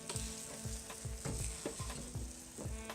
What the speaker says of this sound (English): Now it's time to drop that veal in here.